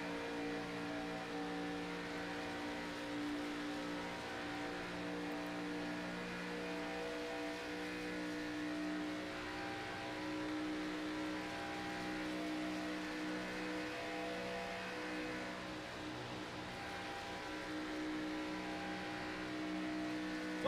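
An ARCA race car at Daytona easing off the throttle, its engine a steady distant drone that holds and coasts without sharp revving for the whole stretch, with no voices.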